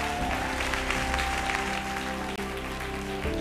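A church congregation applauds steadily throughout, a dense, continuous wash of clapping laid over sustained musical tones, with no pause in the sound.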